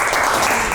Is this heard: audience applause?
yes